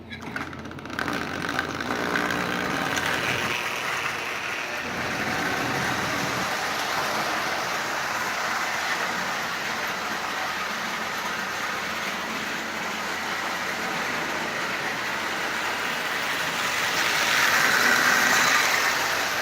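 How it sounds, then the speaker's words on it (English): A Marx 1666 toy steam locomotive pulling six 13-inch Lionel cars around a track, giving a steady whirring, rumbling run that stays even and close throughout, with no voices. "This is the 1666 pulling 6 13-inch Lionel cars."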